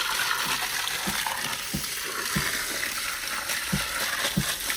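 Water flows steadily into soil being packed down, a continuous rushing wash with a regular series of dull low thumps about every half second, close and fairly loud; no talking.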